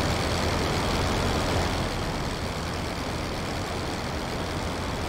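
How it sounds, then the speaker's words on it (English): Aircraft engine noise in a flight video game, a loud, dense, continuous roar with no breaks, steady throughout with no voice over it. "I'm drowned out by the engine noise?"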